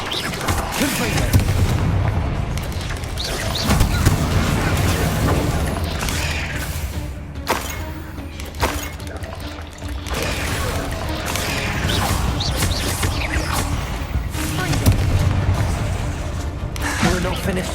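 Repeated Confringo blasts in a Hogwarts Legacy battle, booming explosions and crashes stacked over continuous loud combat noise, with voices talking throughout.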